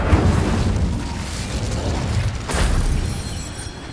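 An Incendio fire spell cast in Hogwarts Legacy: a rumbling, crackling whoosh of flame with a deep low boom at the start and a second surge midway, steady and fairly loud throughout.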